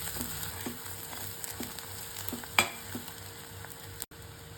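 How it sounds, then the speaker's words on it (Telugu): Green chilies fry with fresh ginger and garlic paste in hot oil, a steady close sizzle broken by rhythmic scraping strokes of a spatula stirring the pan, with one sharper clank near the end. "నాలుగైదు పచ్చిమిరపకాయలు అందులో ఫ్రెష్గా నూరిన అల్లం వెల్లుల్లి లేకపోతే మీ దగ్గర పేస్ట్ ఉంటే పేస్ట్ తీసుకుని పచ్చివాసన పోయేంత వరకు వేయించుకోవాలి"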